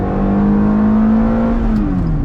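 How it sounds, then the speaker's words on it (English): A Ferrari F430 fitted with a new manual clutch revs hard on a freeway, the engine note climbing steadily to high RPM, loud and close from inside the car, then dipping slightly at the end. "getting on the freeway once again. Again, we'll get some high RPM"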